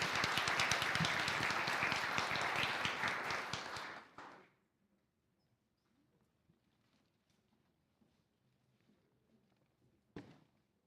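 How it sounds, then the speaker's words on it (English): A church congregation applauds its new members with dense, loud clapping that fills the room for about four seconds and then stops abruptly, followed by near silence and one faint later rustle. "So let's give them another nice round of applause for our new members."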